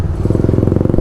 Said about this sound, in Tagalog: Isasakay na namin tong mga motor sa barko.